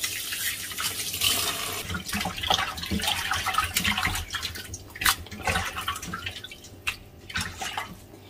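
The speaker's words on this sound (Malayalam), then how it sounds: "ഇനി നമുക്ക് കഴുകിയെടുക്കാം." Sardines being washed by hand in a bowl of water, close splashing and sloshing with dripping and irregular bursts of swirling water throughout, no talking.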